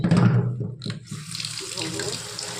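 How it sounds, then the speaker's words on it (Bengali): Tilapia fish is washed under a running kitchen tap. Water splashes and gurgles steadily and close by, with some background talk. "মাছটা আমার ধোয়া হয়ে গেছে"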